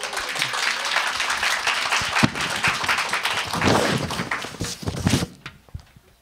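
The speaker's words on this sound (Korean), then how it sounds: "박수로 한번 격려해 주십시오." Church conference audience applauds warmly for a deacon, steady crowd clapping with a few louder claps, fading out abruptly near the end.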